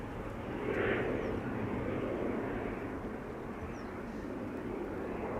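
An airliner departs from Schiphol's Polderbaan runway, its engines a steady, broad roar that swells slightly early on and holds, heard from a distance outdoors with no voices.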